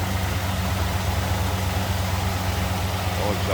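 A 1968 Chevrolet Chevelle with a 327 V8 idles steadily and smoothly, a close, even low-pitched rumble with no misses or variation throughout.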